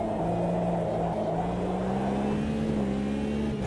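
A Porsche race car in a sim racing game drives with a steady, droning engine note whose pitch climbs slightly, heard alone at close range.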